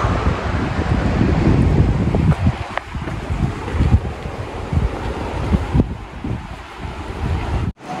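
Strong wind gusting across an open hillside in Big Bend, roaring into the microphone in loud buffeting waves that ease off toward the end, with no talking.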